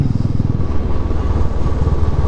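A motorcycle engine rumbles steadily at close range at the start of an early-morning group ride, a loud, continuous low throb with no talk over it.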